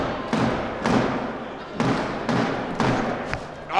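A blitzball strikes a player in the ribs, giving a dull thud within a run of several heavy thumps and bumps spread across a few seconds, amid outdoor game noise.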